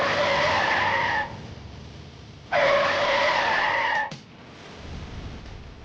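A car with failed brakes skids loudly, two long tire screeches separated by a short gap, then a sharp thump and a quieter rolling tail.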